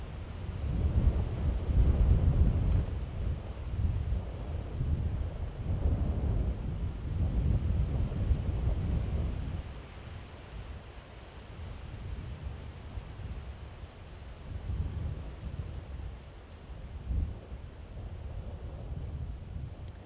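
Strong wind buffets the microphone in an open area of an African safari reserve during a morning game drive, a steady roaring rumble that eases after about ten seconds and then gusts again; no talking.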